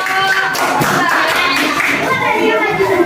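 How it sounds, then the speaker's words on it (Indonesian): Classroom audience applauding a student group after their presentation, a dense, steady patter of hand claps close by with children's voices mixed in throughout. "Berikan aplaus untuk kelompok."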